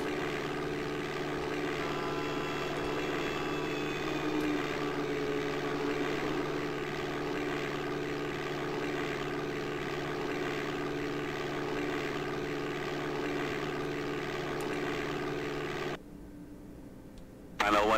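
Propeller airplane in Flight Simulator 5.1 for DOS powering up for takeoff, a steady loud droning engine with harmonic whine that holds for most of the clip, then drops away abruptly near the end.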